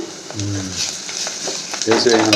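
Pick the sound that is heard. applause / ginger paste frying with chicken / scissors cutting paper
ginger paste frying with chicken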